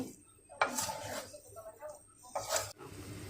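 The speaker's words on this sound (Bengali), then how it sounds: "উপর থেকে সরিয়ে দেব ভালো করে মশলাটাকে মিশিয়ে দেব" Metal utensil scraping and clinking in a pan while spice masala is stirred through egg chowmein noodles, two short bursts of clatter separated by quieter scraping, close and moderately loud.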